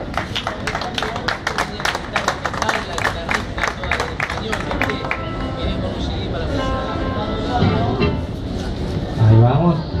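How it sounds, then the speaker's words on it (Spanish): Audience clapping and cheering at a night-time Argentine tango show in Buenos Aires: scattered claps and crowd murmur build under continuous talk, with a louder swell near the end. "Aplauso entonces."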